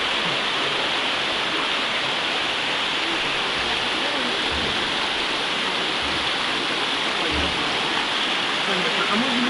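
Nikhaloy waterfalls rushing with a steady, dense roar of falling water that holds constant throughout, broad and loud with no pauses.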